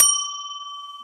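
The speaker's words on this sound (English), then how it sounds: "she rings the bell on the counter" A single bell on a shop counter is struck once, giving a bright, clear ding that rings on as a steady, slowly fading pure tone, heard alone and close.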